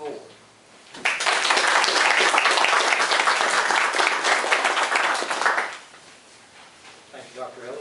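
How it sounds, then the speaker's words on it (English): An audience at a county board of education meeting bursts into applause, with hearty clapping that lasts about five seconds before fading back to speech in the room. "Please join me in applauding these tremendous efforts on the part of the ground staffs and ground staff board."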